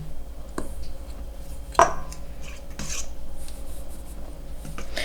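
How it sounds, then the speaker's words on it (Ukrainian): A fork working sifted flour in a bowl, with a continuous gritty scraping and a few sharper clinks of metal against the bowl. "Борошно, звичайно, я пересіяла, перемішую спочатку вилкою."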